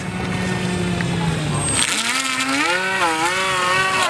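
A motorboat engine in Ben Tre, Vietnam idles low, then roars up at about two seconds and holds a loud, rising whine as the boat speeds away, close by.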